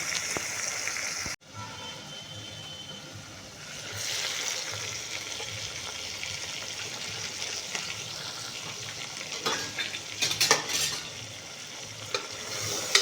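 Cluster bean curry fries in oil with turmeric, salt and coriander-cumin powder inside a pressure cooker, giving a steady soft sizzle with stirring scrapes and a few sharper clatters near the end.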